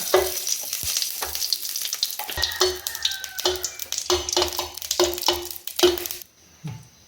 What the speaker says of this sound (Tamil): இதை நம்ம நல்லா செவர வறுத்துக்கலாம்